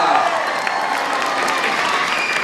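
A school audience at a jazz ensemble performance claps steadily for a performer, a dense, close burst of applause throughout with a speaking voice over it.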